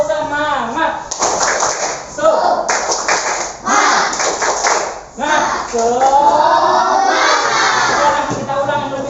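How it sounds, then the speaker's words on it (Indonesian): A classroom of children shouts a lively clapping chant, bursts of claps and loud voices in a quick repeating rhythm, led at first by a teacher's voice. "Yel tepuk semangat dulu."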